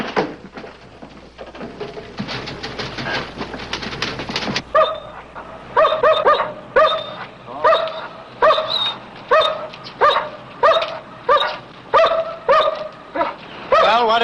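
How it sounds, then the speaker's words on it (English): A dog barks in a steady series of loud, close woofs, preceded by a stretch of scuffling noise from an old television patrol drama. "Nice dog you got."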